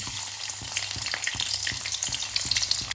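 Garlic frying in hot oil for fried rice, a bright close crackling sizzle with regular light taps of a spoon stirring in the pan, then cutting off abruptly.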